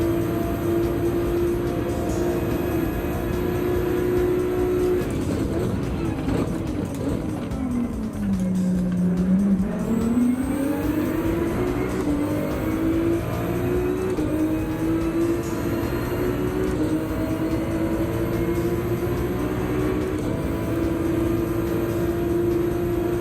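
Audi R8 race car in Gran Turismo 7, racing in the rain at Dragon Trail Gardens: a steady, loud engine drone holds a sustained pitch, dipping briefly around the middle before climbing back, continuous throughout with no speech.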